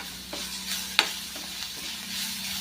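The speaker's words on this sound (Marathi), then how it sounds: "मिरची आपल्याला चांगली परतून घ्यायची आहे" Green chilies being sautéed and stirred in a pan for Maharashtrian eggplant bharit, giving a soft, steady sizzle broken by a few light scrapes and one sharper utensil tap, with no talk.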